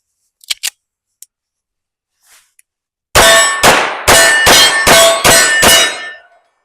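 A Springfield Armory Mil-Spec 1911 .45 ACP pistol fires six sharp, loud shots in quick succession at about 7 yards. A few faint clicks and handling noises come before the string of shots, and each report rings out briefly.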